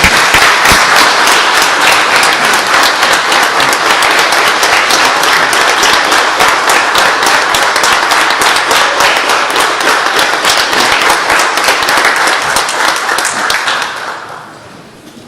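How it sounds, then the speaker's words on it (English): A loud, sustained round of audience applause honoring a volunteer at a town board of commissioners meeting, dense clapping for about thirteen seconds before tapering off quickly. "Let's give Mr. Baxter Green another round of applause"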